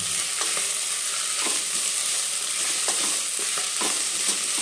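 Ginger garlic paste frying in a pan while being stirred for village-style methi bath, a steady close sizzle with scraping stir strokes throughout.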